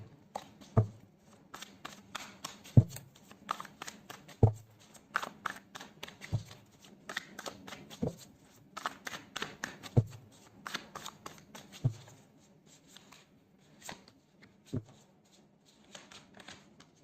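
Tarot cards riffled and shuffled with repeated crisp flutters, sharp slaps every couple of seconds as the deck is tapped down and cards drawn, close and fairly quiet, no talking.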